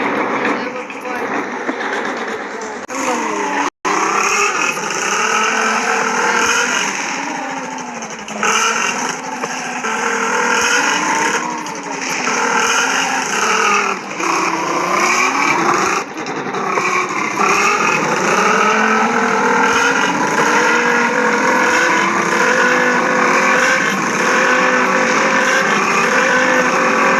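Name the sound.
motorcycle riding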